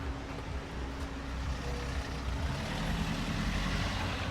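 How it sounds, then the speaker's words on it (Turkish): Street traffic rumbles steadily nearby, with a low engine drone and a slight swell as a car passes, no talking. "Araba geliyor."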